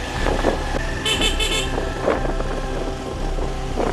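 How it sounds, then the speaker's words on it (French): A short double horn toot from a motorcycle taxi in Togo sounds over a steady engine drone and wind rush, close by while riding. "Klaxonne quand il y a des virages."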